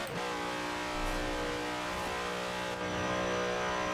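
A high-revving Zenvo TSR-S supercar engine in Forza Horizon 4 roars steadily and loudly, holding a dense harmonic whine throughout without pause.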